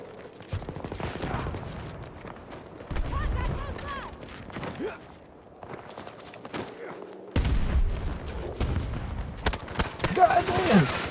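Bursts of video game gunfire crack in short volleys and single shots at varying distances, separated by quieter gaps, with faint mechanical clicks between.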